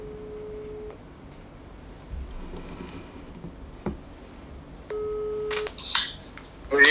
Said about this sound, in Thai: ผมจะต่อสายถึงอาจารย์นัทวุฒิลุ่งวงสักครู่ครับ